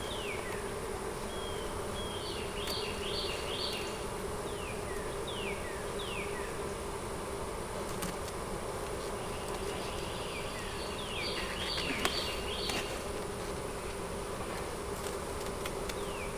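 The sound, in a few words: honey bees buzzing around a hive about to swarm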